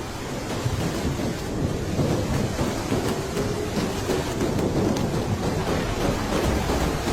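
A cartoon storm over a canal, with churning waves, gusting wind and deep rumbling, rendered as a dense, loud, unbroken roar throughout.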